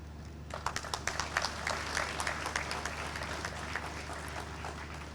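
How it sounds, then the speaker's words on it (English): An audience at a national convention claps in steady, moderately loud applause, many hands blending into a dense patter over a low background hum. "everyone clapped, and rightly so"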